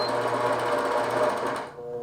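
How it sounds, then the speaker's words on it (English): A sewing machine stitches a diagonal line across a tree wall-hanging, a steady fast close whirring hum that stops abruptly near the end. "So I'm gonna hit sew, and this is gonna get me where my sewing line is going to be"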